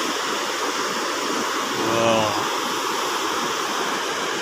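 River water flows below a road through forested hills near Darjeeling, a steady broad rushing wash heard continuously at moderate loudness with no talk.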